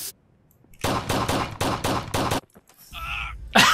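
Bursts of rapid gunfire from a first person shooter video game, five or six short loud volleys in quick succession, followed by a brief tonal game sound and a sharp final shot, with no one talking over it.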